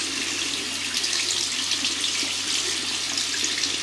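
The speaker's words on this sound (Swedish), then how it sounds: "Och så skulle man skölja den i kallt vatten." Cold tap water runs in a steady, continuous stream as something is rinsed under it, a close, even rushing splash that holds for the whole stretch with no talking.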